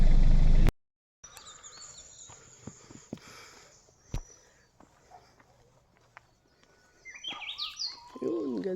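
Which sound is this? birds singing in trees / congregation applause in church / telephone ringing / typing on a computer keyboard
birds singing in trees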